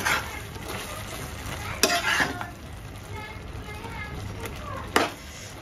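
Sweet ripe mango murabba with jaggery is stirred in a pan, giving soft scraping and sizzling with a couple of sharper utensil knocks, fairly quiet against background voices.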